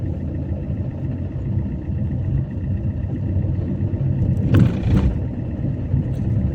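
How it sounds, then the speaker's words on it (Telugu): Car engine in a driving lesson, accelerating gently after a shift into third gear while taking a turn: a steady low rumble with a brief rise near the end, no talking. "క్లచ్ మీద మెల్లిగా కాలు తీయండి చిన్నగా ఎక్సలేటర్ ఇవ్వండి"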